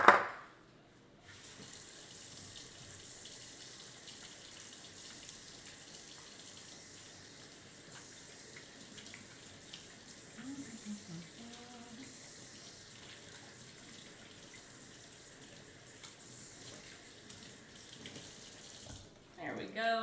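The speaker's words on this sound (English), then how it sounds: "so I'm going to wash my hands again." Tap water runs steadily into a kitchen sink during hand washing while preparing a miniature Thanksgiving dinner, a faint, even hiss lasting about twenty seconds and heard alone.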